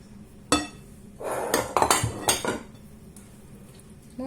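Sliced courgettes tumble into a metal cooking dish for a gratin, a sharp clank followed by a cluster of clattering knocks and scrapes, close and fairly loud in a quiet kitchen.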